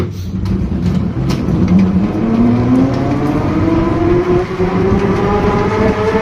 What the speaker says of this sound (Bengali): এ গিয়ার বক্স যখন ফেটে যায় বা ভেঙে যায় যে আওয়াজটা হয়, সেই আওয়াজটা এখন শোনো